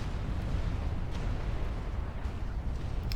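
A nuclear explosion in the real-time strategy game Supreme Commander, heard as a faint, steady low rumble with a broad noisy roar and a few soft distant pops, without speech.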